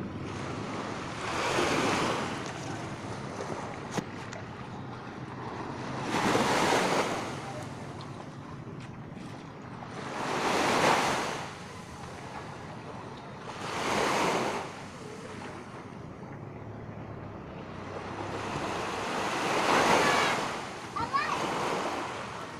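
Sea waves roll in and break on a beach in a slow, regular rhythm, five swells rising and falling over a constant wind-blown wash.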